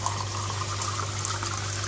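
Water pours steadily into a cup in a home kitchen while Burmese curry is being made, a continuous close trickle with a low hum underneath and no talking.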